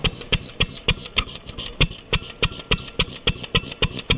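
An old stationary engine on a vintage wood splitter idles with a steady, evenly spaced thumping rhythm, each beat a sharp knock with metallic rattle, heard nearby without talk.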